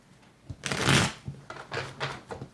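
A deck of tarot cards is shuffled close by in several quick riffling bursts, soft and papery, with a brief pause between the first long shuffle and the shorter ones after it.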